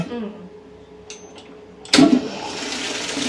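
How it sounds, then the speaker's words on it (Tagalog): A hotel-room toilet in Hong Kong flushes with a sudden loud, strong rush of water that keeps gurgling and draining, preceded by quiet room sounds and a couple of soft clicks. "Malakas yung flush niya, guys."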